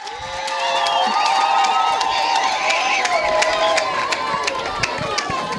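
Crowd at a school welcoming ceremony for a brigadier general, cheering with high shouts and whoops over a sustained roar, sharp claps and taps scattered through, continuous and fairly loud.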